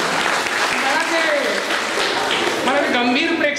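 An audience claps at a 2021 Haldi-Kumkum celebration program in Pen. The applause is a dense, steady patter under a speaker's voice.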